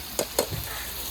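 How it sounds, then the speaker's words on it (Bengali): Onion, garlic and ginger paste fries in oil in a pan, giving a soft, steady sizzle. Two quick scraping stirs stand out near the start, and a fainter third follows. "তেলের পরে পেঁয়াজ আর রসুনটা একটু ভাজা ভাজা করে নেবো"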